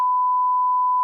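A single steady censor beep, one continuous pure tone lasting about a second, heard alone with no talk over it.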